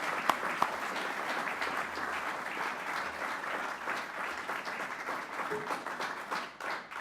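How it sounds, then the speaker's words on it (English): Audience applause at a celebration of the Australian Science Media Centre's tenth anniversary, a dense steady clapping from a sizable crowd sustained for several seconds without speech. "please give them a big round of applause."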